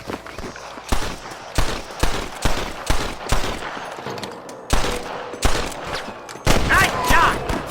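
Gunshots in the Western game Red Dead Redemption, a series of heavy, booming reports spaced about a second apart, loud and close, with scattered voices and game ambience between them.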